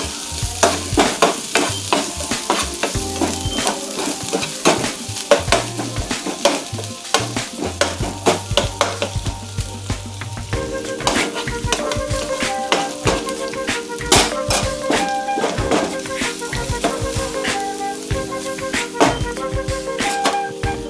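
Garlic, ginger and chili sizzle loudly in hot oil in a pan for chicken manchurian, with frequent rapid clinks and scrapes of a spatula stirring against the metal throughout.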